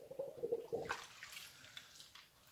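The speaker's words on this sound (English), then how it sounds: "Use some kind of detergent to clean it off." Hot water with detergent swirls and splashes inside a bottle being washed for homebrew bottling, a short faint gurgling rinse that trails off into quiet running water.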